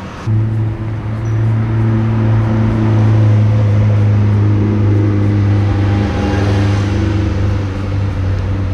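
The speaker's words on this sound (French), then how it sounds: "Quand même une petite McLaren sur la route." A McLaren supercar on a road in Monaco early in the morning, its engine a loud, steady, close drone with a low whirring tone that holds throughout without clear gear changes.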